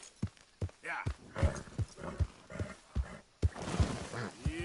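Horse hooves clopping in the Red Dead Redemption II video game, a loose, uneven rhythm of close thuds with a voice talking over them.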